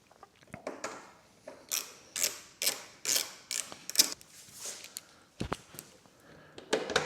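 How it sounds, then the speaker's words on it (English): Plastic push pins pressed into the fairing of a Honda NC750X motorcycle give a series of sharp, close plastic clicks and snaps, irregularly spaced, some in quick pairs, with no talking. "There goes the push pin."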